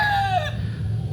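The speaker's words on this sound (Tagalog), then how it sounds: "Ito yung mga manok natin, iuwi natin." A rooster's crow trails off over low farmyard murmur, with hens faintly clucking in the background.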